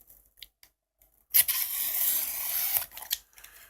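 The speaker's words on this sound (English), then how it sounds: "All right, we'll cut along the bottom here." A blade slices along the bottom of a cardboard box, one continuous scraping cut of about a second and a half, close and alone, with a few faint taps and rustles before and after.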